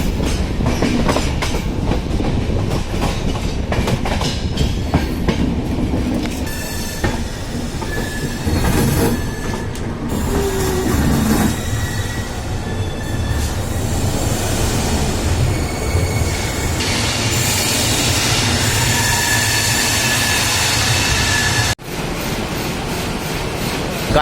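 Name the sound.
Sampoorna Kranti Express train arriving at New Delhi station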